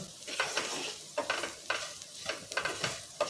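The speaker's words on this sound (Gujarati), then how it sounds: "બધું સરસ મિક્સ કરી લઈશું" Repeated scraping strokes of a spoon stirring spices and salt in a pan for a semolina snack over a steady sizzle, in a quick, uneven rhythm.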